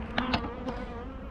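A dense, continuous hum of honeybees rises from healthy farm colonies as wax and propolis are scraped from a hive's top bar, with a couple of brief louder spikes.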